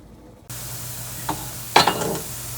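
Previously cooked pumpkin leaves warming in a frying pan, a steady low sizzle under a couple of brief stirring scrapes, close by with no talking.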